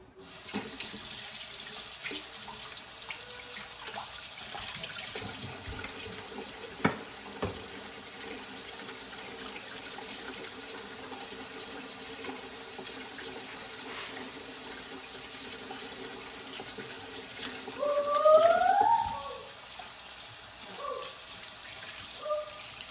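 Tap water runs steadily into a sink for hand washing, a continuous faint splashing rush throughout with a brief louder gush near the end and no talking.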